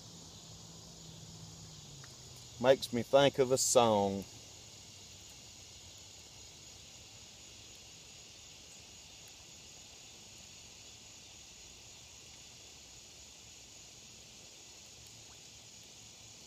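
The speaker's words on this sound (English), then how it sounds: "Hear the cicada." A cicada beside a catfish pond drones in a steady high, even buzz through the whole stretch, while someone briefly speaks near the start.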